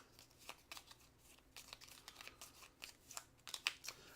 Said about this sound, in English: Got to shuffle up these.